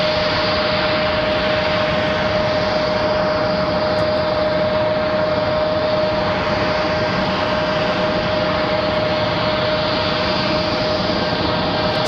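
An airplane passes at Raleigh-Durham International Airport, a steady, loud broadband engine roar with a constant tone running through it, holding evenly throughout without voices.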